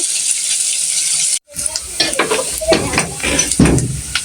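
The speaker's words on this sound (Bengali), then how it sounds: "আর এখানে এই যে আলু পেঁয়াজ ভেজে নিচ্ছি" Potatoes and onions fry in a pan with a lively close sizzle, briefly cut off, then returning with spatula stirs and clanks of the pan.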